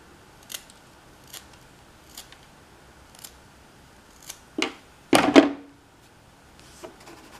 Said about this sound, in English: I'm gonna have to sharpen this pencil for a minute.